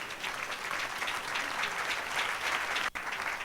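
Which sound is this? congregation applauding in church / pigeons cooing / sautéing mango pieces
congregation applauding in church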